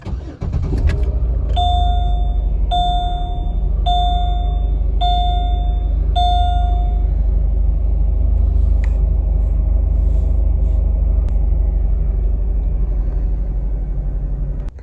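A 2007 Chevrolet Malibu Maxx starts cold on a mild day: a brief crank gives way to a steady, deep idle rumble, with five evenly spaced chime beeps sounding early on over the engine.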